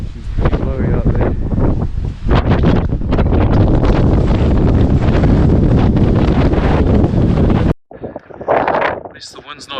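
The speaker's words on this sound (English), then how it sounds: "She's pretty blowy out there." Strong gusty wind buffets the microphone outdoors, a loud continuous roar with rustling that cuts off abruptly near the end, leaving quieter, softer gusts.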